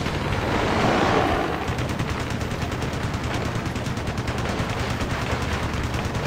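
Rapid gunfire rattles at a hostile ground vehicle in the combat flight game Ace Combat: Assault Horizon, a dense, continuous burst of machine-gun fire that swells early and then holds as a steady, close clatter.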